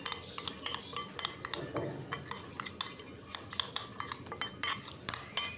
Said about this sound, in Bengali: ঘিটা দিয়ে বেশ ভালো করে একটু মাখিয়ে নেব